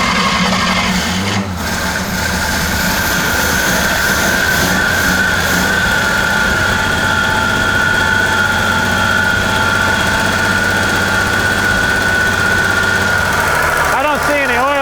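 A 1954 Chevrolet Bel Air six-cylinder engine runs steadily at idle, a loud continuous rumble with a droning hum, and voices talk briefly over it.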